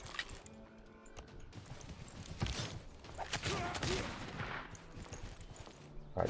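Musketmen firing volleys in the Civilization VI video game during a Roman-era war, a scattered crackle of shots and a few sharper reports, mid-distance and moderately loud, with someone talking over it.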